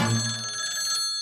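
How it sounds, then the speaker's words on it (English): A steady, bright telephone-bell ring from a crystal ball rings continuously and fairly loud, with a faint low murmur underneath at the start. "I think the crystal ball is ringing."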